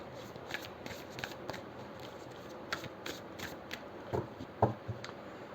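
Tarot cards are shuffled by hand, a close, soft, papery riffling with small irregular flicks and a couple of sharper snaps near the end, heard alone over faint room noise.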